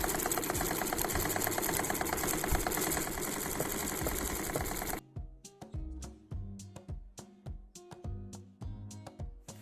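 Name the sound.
sewing machine closing the side seam of a bag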